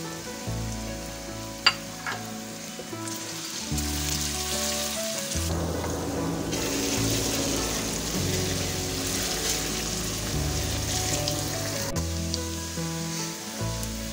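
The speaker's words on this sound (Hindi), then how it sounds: "ऑयल गर्म हो जाएगा, फिर हम इसमें प्याज शामिल करेंगे।" Medium-sized onions sizzling in hot oil in a pan as a chicken feet curry is cooked, giving a steady hiss that rises and falls, with small bursts of crackling and clinks from the utensils.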